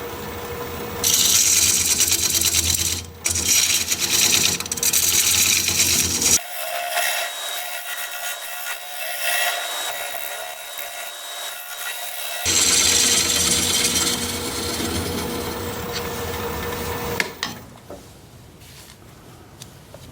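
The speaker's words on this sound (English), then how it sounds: "I'm going to use my dovetail tool, put a dovetail on the side here." A dovetail tool cuts into a big gnarly wood burl spinning on a lathe, making a harsh, continuous scraping and rasping with several pauses and changes in pitch, loud and close, over a motor hum.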